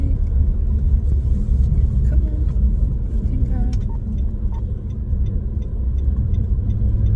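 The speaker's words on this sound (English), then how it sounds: "There's been quite a lot of traffic this morning, but at least it's flowing." A car driving through busy morning traffic, with a steady low engine and road rumble heard from inside the cabin throughout, while a voice briefly speaks over it.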